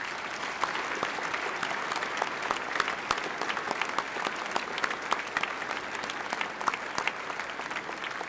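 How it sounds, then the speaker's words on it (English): A legislative chamber audience at a joint session gives the Chief Justice a sustained round of applause for the State of the Judiciary address, dense and even throughout with occasional sharper individual claps standing out near the front. "could we just please give the Chief Justice another round of applause for his work?"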